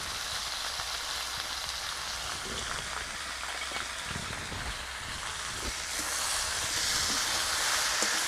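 Potato and eggplant pieces frying in oil in a home kitchen, giving a steady hissing sizzle that runs unbroken and grows a little louder near the end, with no voices.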